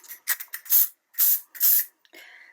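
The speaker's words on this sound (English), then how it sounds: "I'm going to use hairspray to make it stick" Hairspray from an aerosol can sprayed onto gold transfer foil in several short hissing bursts and a few longer blasts, close and loud, with gaps of silence between.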